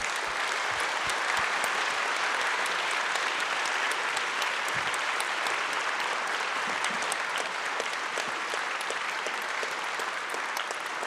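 Audience at a roundtable discussion applauding, steady sustained clapping from a crowd throughout, fairly far off and without voices.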